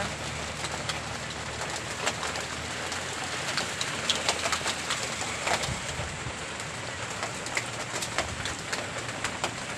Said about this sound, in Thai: ฝนตกอีกแล้วพี่น้อง